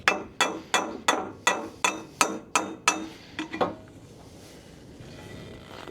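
A hammer strikes a discarded metal frame to dent it, about nine loud, sharp blows in a steady rhythm, then a few quicker softer taps before it falls quiet.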